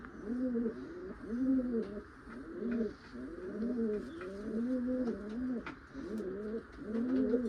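Repeated soft, rhythmic cooing of a female Malwai pigeon, a white-eyed, white-beaked bird, rolling on steadily and close by across the whole stretch with no voices.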